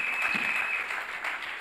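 A church congregation applauding in praise during a French-language service, heard as a steady wash of clapping over the full short stretch, moderately loud with no clear talking.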